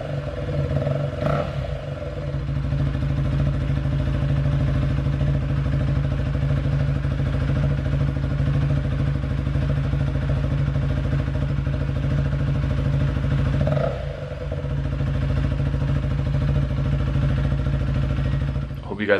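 A 2021 KTM Duke 390 motorcycle with a slip-on exhaust idles with a steady low rumble, rising into a couple of brief low revs, loud and close, with no one talking.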